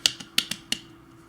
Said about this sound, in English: If you're clapping noise, that's me smacking myself